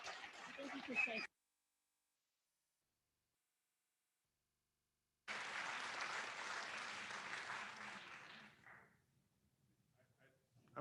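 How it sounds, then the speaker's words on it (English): A brief burst of applause from the audience at a school board meeting cuts off abruptly, followed by silence, then a second longer stretch of crowd clapping that fades into near quiet. "I understand your willingness to applaud"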